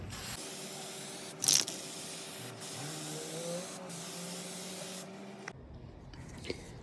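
Ultra Classic Dark Toner is sprayed onto the sides of a vintage Broyhill dresser from a spray gun, giving a steady hiss over a hum that stops abruptly near the end, with one brief louder burst early on.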